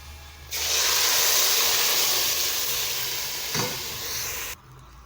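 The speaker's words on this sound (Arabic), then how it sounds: "هنزل عليه بقى بالميه السخنه" Hot water poured into a pan of browned onions for fish and sayadeya rice bursts into a loud, steady sizzle and hiss that lasts about four seconds, then cuts off abruptly.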